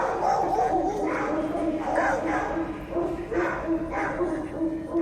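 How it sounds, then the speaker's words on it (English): Dogs bark loudly and repeatedly as a sound effect for a Walking Dead tabletop role-playing game, with yips and whimpers mixed in under steady background noise and talk. "They're barking really loud"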